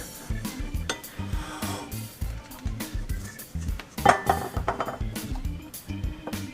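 Homemade mashed potatoes scooped and scraped into a serving dish, with repeated clinks and knocks of a utensil against the dish at an irregular rhythm, close and moderately loud.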